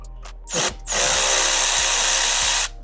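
Power tool backing out 10mm bolts from the intake manifold of a 2013 Toyota Camry 3.5L V6, with a short burst, a brief pause, then a loud steady whir close by that cuts off at the end.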